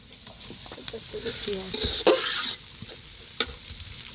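Onions fry in a pan with a close, crackling sizzle and brisk stirring scrapes, swelling louder midway through the short stretch before settling back.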